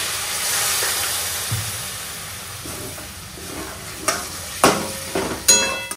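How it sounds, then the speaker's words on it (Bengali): Elephant foot yam and a splash of water go into a spice masala frying in a pan, producing a steady sizzle and hiss with stirring scrapes, then several sharp bursts of spitting toward the end. "এবার ওলটা দিয়ে দিচ্ছি, আর একটু জল দিচ্ছি।"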